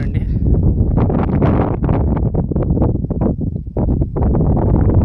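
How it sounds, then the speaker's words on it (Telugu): Strong wind gusting across a hilltop, buffeting the microphone in rough bursts beneath someone talking throughout. "ఇక్కడ చాలా గాలి వీస్తుంది"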